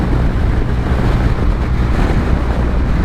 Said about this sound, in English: It is windy as, but it's been a southerly, so it's been somewhat of a cross